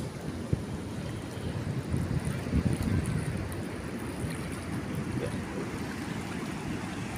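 River water roaring steadily at the Notog dam on the Pemali river in Tegal, a constant loud rushing wash with wind buffeting the microphone throughout.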